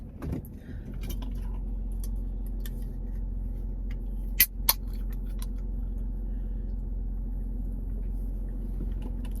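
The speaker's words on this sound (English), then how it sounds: "We are back in the car." Steady low engine rumble fills the interior of a car throughout, with a couple of sharp brief clicks or jangles midway, no talking.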